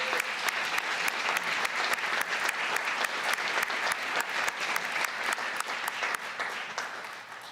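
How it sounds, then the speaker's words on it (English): Sustained audience applause at a Burlington City Council organization meeting, dense steady clapping from a seated crowd filling the whole stretch at an even level. "let's give her a round of applause."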